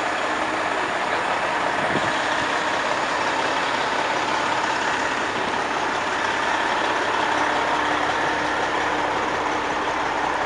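A Montreal fire truck idles nearby, its heavy engine making a steady, loud rumbling drone that holds constant throughout with no talking.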